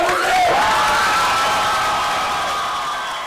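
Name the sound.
audience applause and cheering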